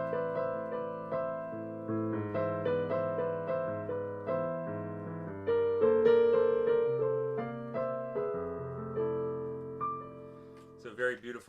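Solo piano playing a bossa nova tune, a steady run of soft chords and melody notes with a gentle, lilting rhythm, close and clear with no talking.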